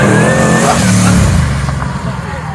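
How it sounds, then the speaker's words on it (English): A supercharged Holden VF Commodore Clubsport revs hard and close, a loud engine roar with a high supercharger whine on top that eases off toward the end. "that's a weird supercharger whine compared to the other VF we've had on"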